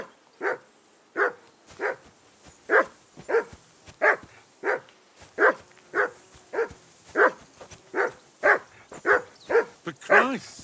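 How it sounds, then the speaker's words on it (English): A dog in Kingdom Come: Deliverance II barks about fifteen times in an even, steady rhythm, each bark loud and close against a quiet background. "Call off that damn dog before he wolfs down the last of our meat."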